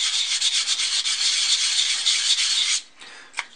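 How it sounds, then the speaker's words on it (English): A large flat sanding block rubs back and forth over plastic parts of a 1/72 scale model kit, a steady close scratchy rasp that stops abruptly near the end, followed by one brief tap. "I'm using this big flat sanding block here to just sort of make sure all of the sides are nice and flat and sharp"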